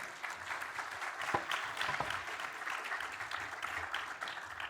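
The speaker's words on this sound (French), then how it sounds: "On peut vous applaudir." Conference audience applauding the speakers at an industry cybersecurity forum session, a steady even wash of many hands clapping at moderate level throughout, with no voices over it.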